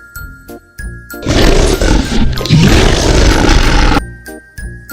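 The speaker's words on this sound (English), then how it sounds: "what sound does a dinosaur make?" A cartoonish dinosaur roar, loud and raspy, lasting about three seconds and set between light tinkling chime notes before and after, with no talk.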